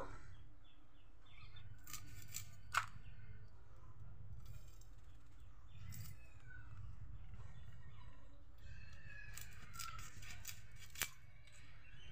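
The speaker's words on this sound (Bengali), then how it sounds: "এখন চিংড়ি মাছগুলো কেটে নিব।" Prawns are cut for a palong chingri dish, giving faint, sparse snips and small clicks over a quiet kitchen background, with a couple of sharper ticks standing out.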